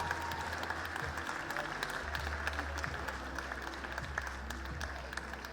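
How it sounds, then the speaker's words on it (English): Applause rises from the crowd at a European dog show after the best veteran Pomeranian is announced, a continuous moderate clapping over a low hum in a large hall. "Give them a round of applause"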